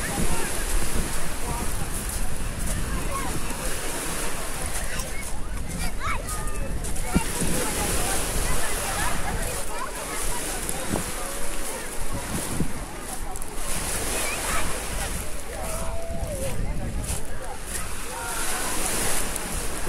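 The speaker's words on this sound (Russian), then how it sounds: "Тут открытое море." Open sea waves wash against the shore at Divnomorskoye on the Black Sea coast in Krasnodar Krai, a steady rushing surf mixed with wind buffeting the microphone while people talk nearby.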